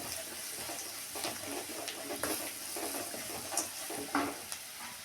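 Turmeric and sambar powder frying in hot oil for a banana stem stir-fry, a faint continuous sizzle with light scraping and stirring taps throughout.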